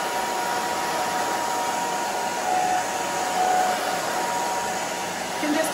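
Hair dryer blowing through short curly pixie-cut hair, a steady close whooshing drone with slight swells as it moves, no talk.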